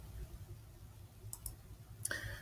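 Computer mouse clicks while working in the GIMP image editor: a few faint, sharp clicks, two close together and then one more, over a quiet room hum with no talking.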